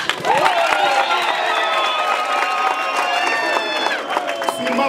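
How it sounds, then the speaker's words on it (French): A crowd cheers and applauds loudly and steadily for the Congolese minister Muhindo Nzangi on a visit to ISPT Likasi, with shouts and whistles above the clapping. "je vous demande de l'applaudir très fortement"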